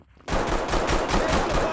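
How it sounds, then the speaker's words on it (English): Automatic gunfire in a SWAT video game erupts suddenly after a short quiet moment, a fast, loud, sustained burst of rapid shots that continues to the end. "Gunshots. Another shooter in the back right."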